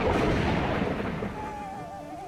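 A thunderstorm in the fox survival game Endling rolls as a deep, loud rumble that fades over a couple of seconds, with a faint wavering tone rising in the background.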